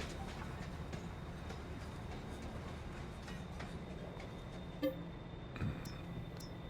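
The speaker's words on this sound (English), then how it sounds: "Alright, the train is here." A train in the Farming Simulator 22 video game, on the Zielonka map, rolls with a low, steady rumble and faint rail clicks, with a couple of brief clanks near the end.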